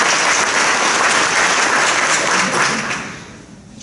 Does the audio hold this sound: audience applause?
yes